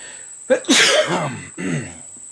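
A single loud, close sneeze with a quick breathy intake before the burst, followed by a softer exhale as it fades.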